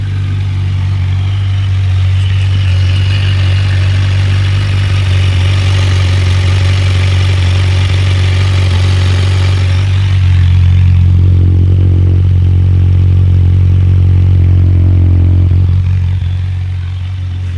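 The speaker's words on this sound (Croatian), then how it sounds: "Sad ću približiti mikrofon i mašini i izduvu da čujete fabrički zvuk" A 2023 Kawasaki Versys 1000 SE with its stock exhaust idles steadily up close, a deep, even drone with faint mechanical clatter, swelling slightly louder toward the end with no voices.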